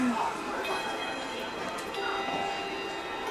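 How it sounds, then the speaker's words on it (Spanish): Bells ring at a distance with sustained, resonant tones over faint outdoor ambience in Odaiba, Japan; no close sounds intrude. "Y ya están sonando las campanas, ¿escuchan?"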